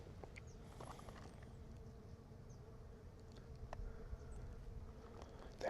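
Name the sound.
bees buzzing around a tree in the desert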